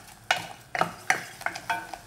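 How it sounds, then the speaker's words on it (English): A spoon stirs sugar into mustard green kimchi paste in a pan over medium heat, about six distinct close scraping strokes in an uneven rhythm over a faint sizzle, with no voices. "turn down the heat to medium and keep stirring"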